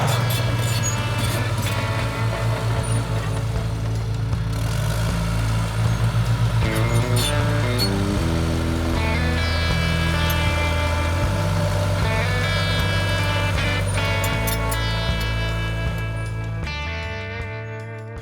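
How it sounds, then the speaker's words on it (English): A bulldozer pushes earth while clearing land to cut a road, its heavy diesel engine droning loudly and steadily throughout, revving and labouring as the load shifts, then easing off toward the end. "Now I know why everyone says you're supposed to use a bulldozer to cut a road."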